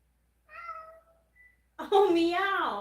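A cat meows twice, first a short, quieter call after a moment of silence, then a louder, drawn-out meow with a bending pitch, heard close by.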